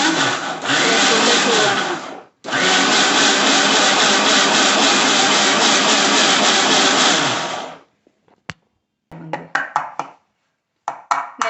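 A kitchen mixer grinder runs loud and close, with a short break early on before a long continuous whir, then stops and leaves a few sharp clatters.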